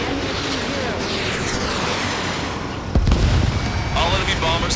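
Missile launches and a heavy blast in the Ace Combat 7 flight combat game, a continuous roaring rush cut by a loud boom near the middle, with a second swell of noise late.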